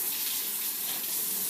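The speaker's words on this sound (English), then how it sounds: "I'm going to go ahead and I'm going to just rinse these" Running tap water gushes steadily into a kitchen sink as dirty dishes are rinsed, a close, continuous broadband splash without breaks and without talking.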